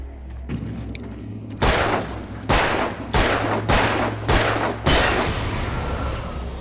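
Gunfire in the video game Alan Wake: after a quiet start, five heavy, loud gunshot booms land in a steady rhythm over a low droning hum.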